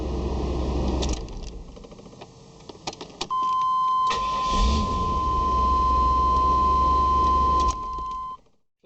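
A GMC/Chevy OBS pickup truck engine idles steadily after a start, a constant loud mechanical drone with a few clicks and a sustained electronic tone over it, no talking.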